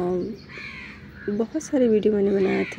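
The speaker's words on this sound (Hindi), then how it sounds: "कौवा बोल रहा था, बहुत अच्छा लग रहा था" Crows caw in the morning with a few short harsh calls, while someone talks over them close by.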